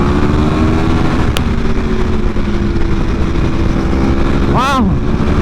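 Motorcycle engine running loud and close as a rider pulls a wheelie out of a turn, a steady revving drone throughout with a brief rising whine near the end; people talk over it.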